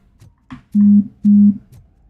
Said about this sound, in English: Should probably turn off those phone notifications if they're coming up on the mic.